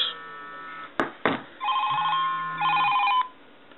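An iPhone rings with a custom ringtone, a melodic electronic tune heard faintly at a distance through background hiss, interrupted by a couple of sharp knocks.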